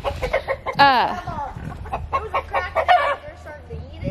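Chickens cluck in short, close bursts, with one louder drawn-out squawk early on amid scattered softer clucks.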